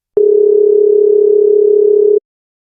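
A telephone dial tone sounds after the handset is picked up: one loud, steady, unbroken tone that starts abruptly, holds for about two seconds and cuts off cleanly, with no voices.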